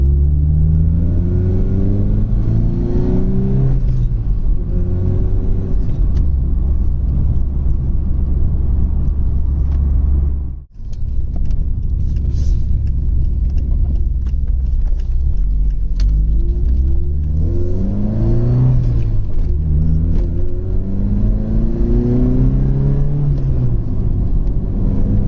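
A Vauxhall Cavalier CD with a 2.0 16V C20XE engine accelerates hard through several gears, its rising, rumbling engine note sweeping upward repeatedly with a brief break at a gear change.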